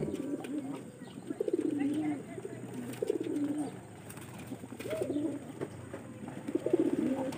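Domestic pigeons cooing, repeated soft throaty coos in a slow rhythm, close by and fairly loud, with a faint background hum.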